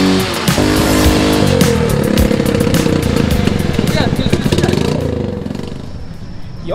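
A big bike motorcycle engine revs loudly and close with rapid firing pulses at a Ride PH Cafe event in Mandaluyong, then fades toward idle, with a voice speaking over it.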